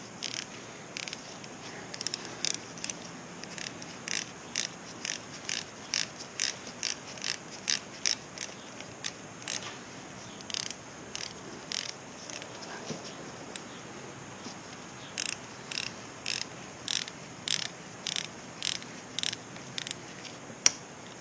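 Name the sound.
tightening Kawasaki Z125 engine bolt with a ratchet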